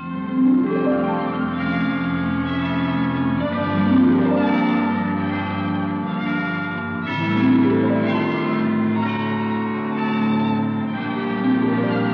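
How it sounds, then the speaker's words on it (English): Hospital chimes ring out a slow sequence of overlapping bell tones at five o'clock, each strike blooming and sustaining into a steady resonant wash with no voices. "I didn't know the hospital had chimes."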